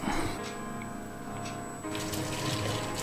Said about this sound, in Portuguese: Agora vamos escorrer o macarrão